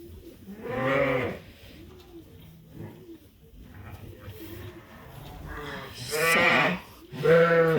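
Sheep bleating in a farm pen, several loud, wavering bleats from close by with quieter calls and rustling in between.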